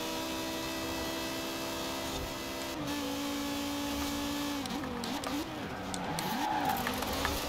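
A Lancia 037 rally car racing in Forza Horizon 4, its engine holding a steady buzzing drone and then wavering up and down in pitch as it revs through corners, with faint talk mixed in.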